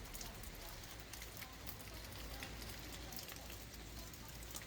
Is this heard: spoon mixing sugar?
no